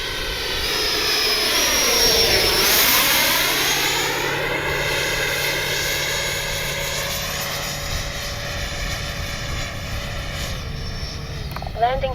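An FMS 70mm F-18 RC jet on its maiden flight sweeps past with landing flaps down, its whining jet roar rising to a loud close pass and sliding down in pitch as it moves away, with a voice talking over it.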